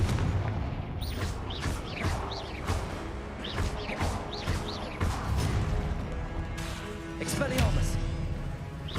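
Confringo fire blast spell cast in Hogwarts Legacy, a run of loud booming explosive bursts with whooshes in dense succession, layered with game sounds and a voice calling out.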